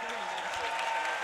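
A crowd applauding at the beach volleyball World Tour Finals in Rome, a dense, steady wash of clapping with cheers and a voice over it.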